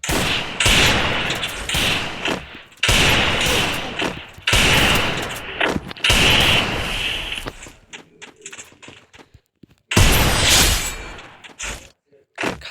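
Gunfire in a shooter video game, heard as loud dense bursts of rapid shots in several separate volleys, with short quieter gaps between them and a voice talking over parts of the action.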